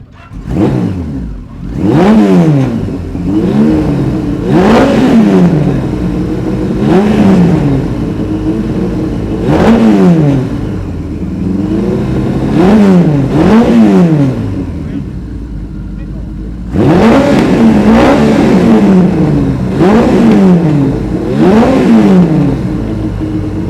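A classic Kawasaki road motorcycle at a show, its engine revved repeatedly to 8,000 rpm, roughly a dozen rising-and-falling blips over a steady idle, loud and close.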